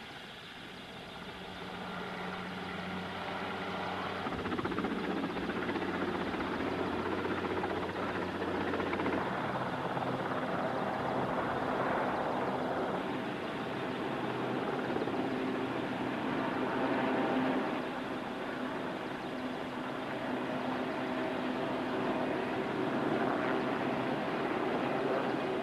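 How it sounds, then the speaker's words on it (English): Military helicopters hovering over ships at Bluff Cove to winch men off, a steady distant rotor and engine drone that swells gradually, no talk. "The helicopters waited in turn, steady in the air, to move in once the one in front of them had moved away"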